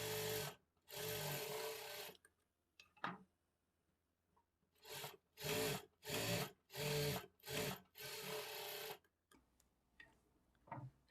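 Sewing machine stitching a folded cloth sleeve joint, running in several distinct bursts of a second or so each with short pauses between, close and fairly loud with no talking.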